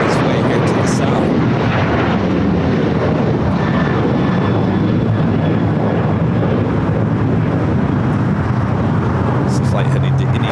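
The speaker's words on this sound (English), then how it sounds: "That was a Boeing 737-800." A Boeing 737-800 jet roars past at LAX, a loud broad rushing engine noise that stays steady throughout, with wind buffeting on the microphone.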